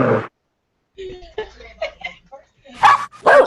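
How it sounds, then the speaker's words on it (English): A dog named Bella gives a few short barks and yips in a kitchen, close by and loud, scattered between stretches of people talking. "did he just bark?"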